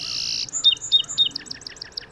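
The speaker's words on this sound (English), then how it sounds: "the song sparrow delivers rich, variable songs from blackberry tangles and dune grass above Oregon beaches" A song sparrow on the Oregon coast sings a short, bright song, a few clear introductory notes followed by a quick run of repeated chirping trills, close and distinct against quiet background.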